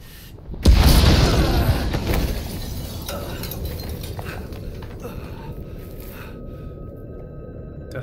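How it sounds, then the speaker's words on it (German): A loud explosion booms at close range in the Mafia video game, a sudden broadband blast followed by a long rumbling decay that fades over several seconds. "Das war die Explosion?"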